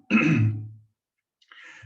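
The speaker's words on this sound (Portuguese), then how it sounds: "minha garganta está meio complicada, toda hora eu estou tossindo" One harsh, close cough that trails off, followed by silence and a faint breathy sound.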